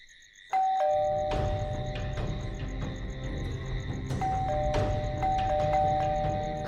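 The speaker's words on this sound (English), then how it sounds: "just when someone rang the bell." A bright electronic doorbell in an animated cartoon chimes loudly after a brief quiet start, its tones ringing out and repeating with a lingering sustained hum.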